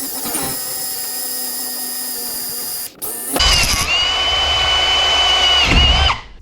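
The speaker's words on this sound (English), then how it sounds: "we're gonna start drilling these" A loud, close power drill with a split point bit runs with a high whine, pauses briefly, then bites into a metal handlebar with a harsher grinding tone before stopping.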